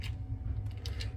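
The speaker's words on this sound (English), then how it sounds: "using a half-inch socket, I'm going to remove the bolts" A ratchet with a half-inch socket turns bolts on an AO Smith Cyclone water heater burner assembly, giving quick, faint clicking over a low mechanical rumble.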